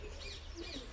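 Faint, thin bird chirps flicker over a steady background hiss, a few short tweets close together.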